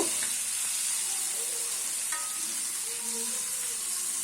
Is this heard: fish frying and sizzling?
yes